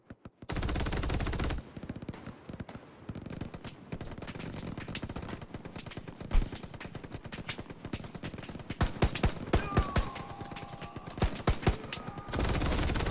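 Machine gun fire in the Hell Let Loose war game: long loud automatic bursts at the start and end, with scattered single shots, distant cracks and rattles in between, no talk.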